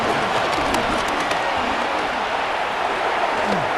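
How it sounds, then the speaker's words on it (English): A Buffalo stadium crowd in the Madden NFL 26 football game roars in a steady, dense wash of cheering that fills the whole stretch without a break, with heavy snow falling on the field. "This Buffalo crowd letting him have it"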